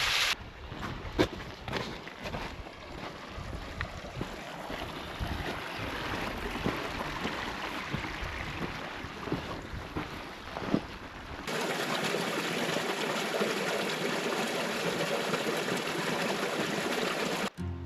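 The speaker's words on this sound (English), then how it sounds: "This is about a 15-foot high waterfall that we came across in the middle canyon." A 15-foot waterfall in Mill Canyon, Death Valley, giving a steady broadband rush of falling water that continues unbroken, close and fairly loud, shifting to a smoother hiss partway through, with no talk.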